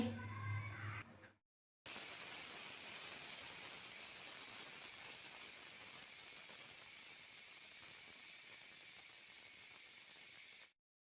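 A pressure cooker vents steam in a loud, unbroken hiss that holds steady for several seconds. A short, fainter sound comes before it, and the hiss then cuts off abruptly.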